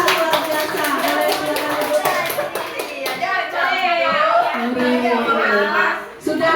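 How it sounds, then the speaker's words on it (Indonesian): An elementary classroom claps for a student group in quick, uneven bursts of many small hands, with children's voices and chatter mixed in throughout and a brief dip near the end. "kasih tepuk tangan dulu untuk kelompok 2 luar biasa"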